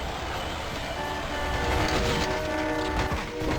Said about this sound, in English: The trains make that goal needlessly difficult.